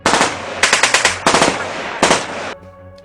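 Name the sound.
machine gun fire sound effect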